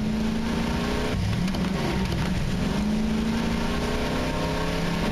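A car engine in a video game drones steadily and loudly, its pitch rising and dipping as the vehicle accelerates and shifts, with no voices over it.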